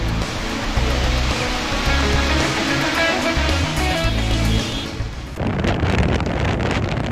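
Strong cyclone wind roars across a coastal area, a loud, steady gusting rush with heavy microphone buffeting that dips briefly near the end before surging again, no voices.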